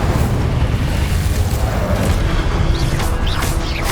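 Incendio fire spell blasting in Hogwarts Legacy during a dungeon crawl, a loud, continuous roaring rumble of flame and impacts with no pause across the whole stretch.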